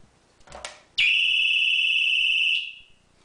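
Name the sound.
pistol pad security alarm triggered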